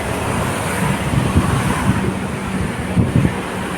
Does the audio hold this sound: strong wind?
yes